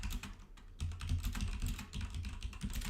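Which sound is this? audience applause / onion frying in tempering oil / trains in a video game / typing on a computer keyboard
typing on a computer keyboard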